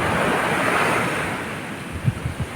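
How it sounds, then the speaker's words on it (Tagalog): Steady roar of ocean surf with wind buffeting the microphone, a few heavier wave thumps near the end, no voices. "laki ng alon na yan fish."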